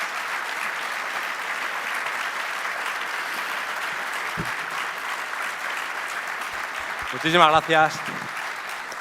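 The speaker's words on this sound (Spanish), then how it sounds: "Un aplauso para todos ellos." Steady audience applause for honorary members at an annual gala, a broad, even clapping crowd continuing throughout, with a voice briefly speaking over it near the end.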